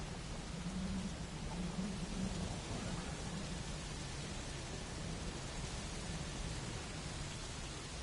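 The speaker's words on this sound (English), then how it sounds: "Listen to the rain." Steady rain in the video game Metal Gear Solid, a constant broadband hiss with a low rumbling undertone, even and unbroken throughout with no voices.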